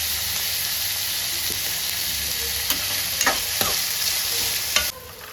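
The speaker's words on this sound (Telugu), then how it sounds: "వంకాయలు వేసుకున్నాక బాగా మగ్గబెట్టుకోవాలి" Brinjal pieces fry steadily in a pan with a constant loud sizzle, while a spoon stirs them with occasional scraping clicks; the hiss stays even throughout and drops suddenly near the end.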